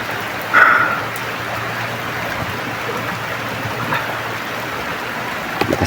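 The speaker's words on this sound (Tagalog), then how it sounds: "Lakas talaga ng ulan." Heavy rain falls steadily outdoors as a continuous broadband hiss, with a brief louder burst near the start and no talking.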